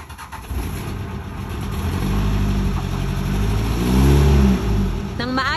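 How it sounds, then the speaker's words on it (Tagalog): A boat engine on a flatboat near Talim Island starts up and revs, a loud low mechanical rumble that rises and falls, peaking about four seconds in before easing off. "pinaandar na nga rin niya ang aming makina"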